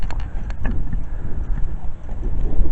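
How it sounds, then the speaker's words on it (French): Steady low wind rumbling and buffeting against the microphone at the ruins of the Beaumont priory, a continuous gusty roar with faint soft knocks, with no one speaking. "Il y a un petit peu de vent."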